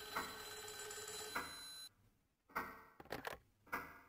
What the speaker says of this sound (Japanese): 田所さんからと思ったその電話は意外な人物からだった。